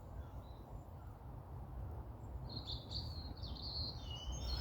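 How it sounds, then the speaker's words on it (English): Various birds call and chirp outdoors in early February, with faint high twittering phrases over steady low background noise, growing busier toward the end. "A range of bird calls now as well."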